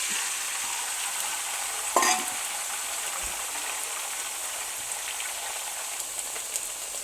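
Four eggs sizzle steadily in a hot pan beside vegetables for fried rice. The bright frying hiss runs throughout at an even level, with one brief clatter of stirring near the two-second mark and no talking.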